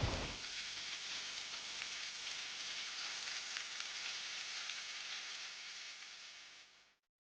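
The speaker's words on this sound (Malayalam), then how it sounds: "അപ്പോൾ 2 ഭാഗം നന്നായിട്ട് ഫ്രൈ ചെയ്തെടുക്കുക." Masala bread toast fries in a pan with a continuous bright sizzle and hiss. It is steady and close, then cuts off abruptly near the end.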